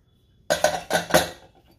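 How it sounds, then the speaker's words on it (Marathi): A few sharp metallic clanks and scrapes close by as a heavy pressure cooker lid is lifted off after the pressure has released, then a brief ringing fade. "आता मी झाकण काढते"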